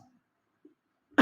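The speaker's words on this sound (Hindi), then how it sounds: "चिल्ला चिल्ला पढ़ाने में खांसी आने लगी।" A teacher coughs once near the end, a short loud burst after near silence, with a faint throat sound just before it.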